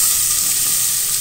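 Garlic and chopped medium onion frying in a pan, a loud, steady, close sizzle with no other sounds over it.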